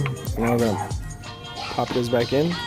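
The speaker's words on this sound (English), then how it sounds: "Excuse the barking dog." A dog barks and whines in short yelping bursts, two clusters close by, while someone talks over it during a car grille install on a 2016 Subaru WRX.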